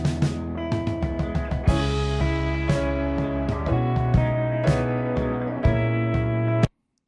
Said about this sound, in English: we've got a piano here that is a little bit dull